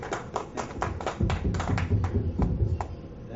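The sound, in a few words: round of applause for Dr. D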